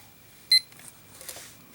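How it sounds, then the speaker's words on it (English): A digital timer starts with one short, high electronic beep, close and clear. Faint handling clicks follow, with no speech. "So I'm going to start the timer."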